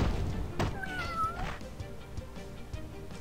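Cat enemies in the game Epic Battle Fantasy give a short, close meow with a rising and falling tone, followed by light thuds and soft impacts.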